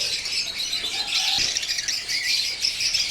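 Birds squawk and chatter in a dense, high-pitched chorus, continuous and fairly close, with no talking.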